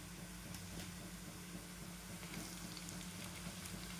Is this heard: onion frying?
yes